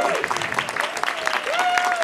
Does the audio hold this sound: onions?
no